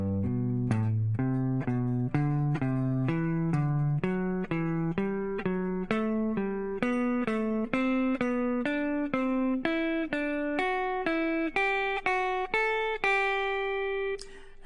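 A plucked guitar plays a stepped scale with skipping intervals, single clear notes in a steady rhythm climbing upward, then a final held note ringing out.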